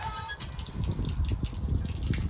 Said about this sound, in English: I come up to this hand lever here, I start pulling on it, and look at that. It makes water.